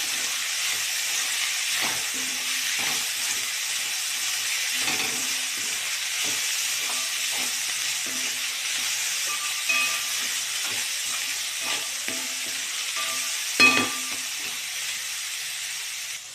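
Cabbage and soya chilli vegetables stir-fry in a hot pan, giving a continuous steamy hiss and sizzle broken by intermittent scrapes and light knocks of a spatula, moderately close, with no speech.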